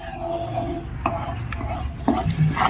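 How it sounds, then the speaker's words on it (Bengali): A spoon stirs thickening sweet dough in a pan over a low gas flame, giving soft scraping and occasional knocks against the pan along with a faint sizzle. "এবার এইভাবে গ্যাসের ফ্লেমটা লো ফ্লেমে রেখেই নাড়াচাড়া করে আমি 3 থেকে 4 মিনিট মতো রান্না করে নেব।"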